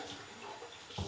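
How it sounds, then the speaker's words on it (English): Tap water runs into a bathroom sink as a face is rinsed during a nighttime skincare routine, a brief, close, steady splashing hiss with a slightly louder splash at the end. "I'm gonna go ahead and rinse my face"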